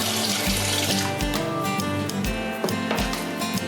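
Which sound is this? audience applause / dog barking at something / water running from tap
water running from tap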